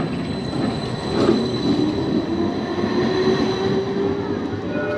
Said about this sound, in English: we just got off a tram and that's another one turning up straight away